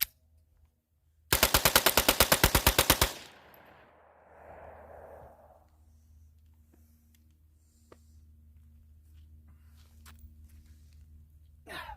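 A Taurus TX22 .22 pistol fires a fast, evenly spaced string of about fifteen sharp, loud shots, followed by quieter handling noise and faint movement.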